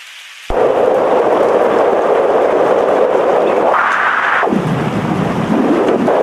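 Synthesized noise bursts in after a brief quiet and roars continuously, with a narrow band-filtered stretch sweeping upward in pitch and back down, loud and steady throughout with no speech.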